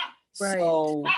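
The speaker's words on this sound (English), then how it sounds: "The dog was barking." A pet dog gives one loud, clear bark close by in a home, a single strong harmonic yelp set between bits of a person talking.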